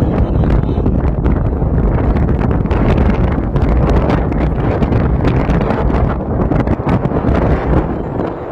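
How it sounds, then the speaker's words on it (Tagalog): Strong outdoor wind blasts straight across the microphone, making a loud, continuous roaring buffet with gusty flutter and no talk heard. "Mahangin naman."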